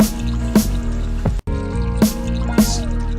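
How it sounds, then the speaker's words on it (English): Watery drip and trickle effects running through a music track, a few droplet-like accents riding over sustained tones and a steady beat, with a brief dropout midway. "there's like a water sound effect going out throughout the"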